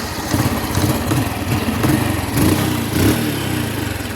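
A Honda Wave motorcycle engine runs close by, a steady buzzing idle that sputters and misfires unevenly, loud and alone with no talking.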